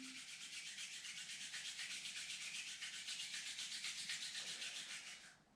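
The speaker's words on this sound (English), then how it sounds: "Draw your palms lightly together and begin to rub your palms" Palms rubbed briskly together to build warmth in a beginner hatha yoga class, a steady close-up swishing friction that runs evenly for about five seconds before stopping, with no talking.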